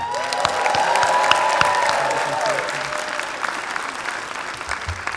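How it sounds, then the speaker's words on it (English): Audience applause at a Black celebratory evening event, honoring the master of ceremonies, a full room of clapping that swells over the first two seconds then slowly thins, with a few cheers and voices mixed in. "let's give a tremendous round of applause for our standing Master of Ceremonies for the evening, Dr. Robert Sellers."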